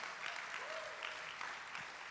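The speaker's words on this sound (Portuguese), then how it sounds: "Vocês podem aplaudir ao Senhor pela vida delas." A church congregation applauds in a faint, continuous wash of clapping, heard at a distance with a few voices rising briefly beneath it.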